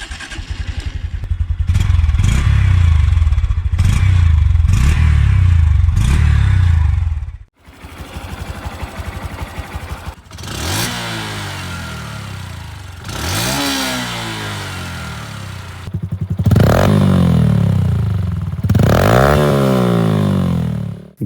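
A simulated single-cylinder engine chugs and revs repeatedly, its pitch climbing and falling in a series of loud throttle bursts with brief pauses between.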